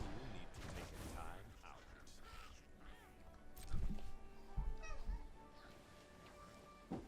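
A house cat meows several times, the cries rising clearly above quiet background game audio during an MTG Arena match.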